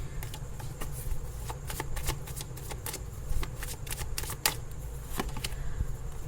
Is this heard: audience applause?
no